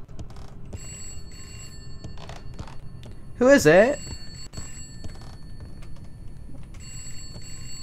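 A telephone ringing in the horror video game Contempt, a single short electronic ring burst midway through the clip over a low game ambience, with someone speaking briefly.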